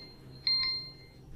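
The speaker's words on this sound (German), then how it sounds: "Meine Uhr hat geklingelt" A wristwatch alarm chimes two quick, clear bell-like pings over a quiet background hum, then falls silent.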